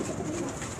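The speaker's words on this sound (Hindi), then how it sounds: "वो कुछ चंद कबूतर मैं आपको दिखा रहा हूँ।" Soft, low pigeon cooing close by on a rooftop in Lahore, a brief murmuring call over a constant background hum.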